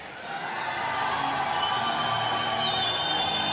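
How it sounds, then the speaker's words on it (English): Crowd in the Lotto Arena cheers loudly as a fighter walks into the cage at an MMA event, a sustained roar with whoops and shouts that swells and holds steady, alongside faint arena music. "the cheer goes up around the Lotto Arena for Artur Szczepaniak"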